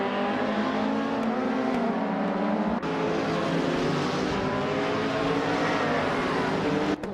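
Racing cars in a video game, including a 2013 Hyundai Genesis Coupe GT4, a steady loud engine drone holding high revs throughout with layered harmonics from several cars, no talking.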